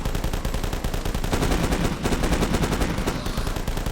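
Rapid automatic gunfire from the video game The Last Stand rattles on without a break, loud, dense bursts of shots filling the whole stretch with no talking.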